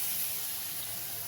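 Spice paste frying in hot oil with cumin for a raw banana kofta curry makes a steady, close hiss and sizzle, brief and unbroken, with no voices.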